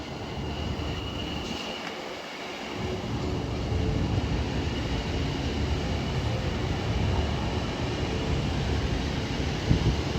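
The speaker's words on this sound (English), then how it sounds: "it looks to be another DB Class 66 passing" A DB Class 66 diesel freight train passes through Milton Keynes Central station on the West Coast Main Line, a steady broad rumbling roar that holds close and loud for about ten seconds with no talk.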